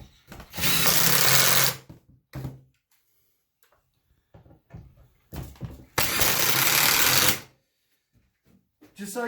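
A power drill drives screws into a 2x4 patio side table in two loud, close bursts of whirring, separated by quieter clicks, handling sounds and a man's speech.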